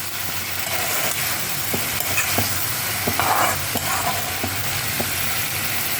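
Diced potatoes sizzle and fry steadily in a pan, with occasional scraping stirs of a spatula and no talking.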